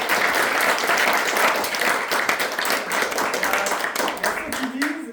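Warm applause from an evening audience at a French community guide launch, steady dense clapping throughout with a faint voice surfacing near the end.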